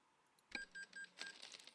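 Cash register sounds ring out as truck upgrades are bought in American Truck Simulator: a quick clatter of coins and a few bright chimes, short and clean over quiet.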